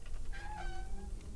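A cat meows in the point-and-click adventure game Deponia Doomsday. One drawn-out, tonal meow rises and falls over a steady game background, with no speech.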